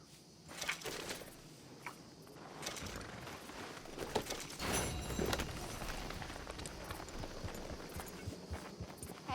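Horse hooves clip-clop on the ground in Red Dead Redemption 2, a quiet, uneven patter of steps with a few louder thuds over a soft outdoor background.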